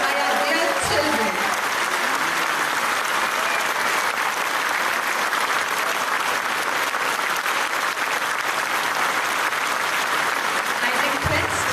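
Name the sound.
audience applause after school children's performance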